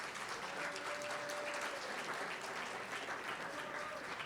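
An audience at an annual meeting keeps up steady, dense applause throughout, with faint voices mixed in beneath the clapping.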